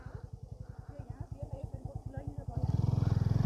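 A TVS Apache 200 4V motorcycle rides along with a rapid, pulsing engine putter that swells into a louder, rising rev near the end, with people talking over it.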